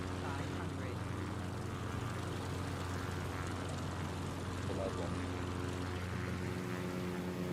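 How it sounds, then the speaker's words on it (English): A helicopter in Microsoft Flight Simulator 2020 gives off a steady, even engine-and-rotor drone with a constant hum that neither rises nor fades throughout. "あ、ヘリコプターだ。"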